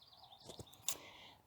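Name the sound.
birds chirping outdoors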